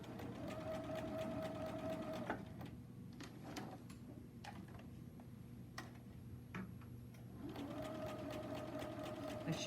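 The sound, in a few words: sewing machine stitching thread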